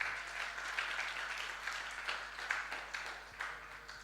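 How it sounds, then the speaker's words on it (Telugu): A church congregation clapping in praise of God, a sustained wash of applause from many hands, fairly faint and distant with no talk over it. "చప్పట్లు కొట్టి దేవుని మహింపరుద్దాం"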